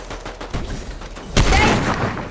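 Fortnite gunfire in a quick burst of sharp shots, with a louder, closer blast partway through that rings out over a background hum.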